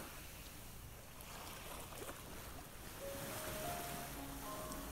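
Soft ocean surf washes steadily in the background of a children's sophrology meditation, a faint continuous rush of waves with a light wind-like hiss and a few faint tones.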